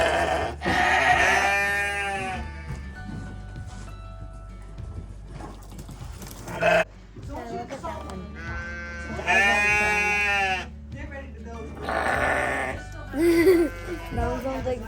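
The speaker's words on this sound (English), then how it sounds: "we just picked up a 2-year-old sheep, and we're bringing it home right now" A two-year-old sheep bleats repeatedly in loud, drawn-out calls at close range, with pauses between, over a steady low engine-like hum, as if riding in a vehicle; people talk in between the calls.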